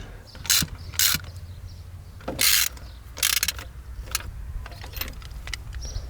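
Spark plugs tightened with a ratchet on a Peugeot 205 CTI engine: several short bursts of ratchet clicking separated by pauses, close and fairly loud.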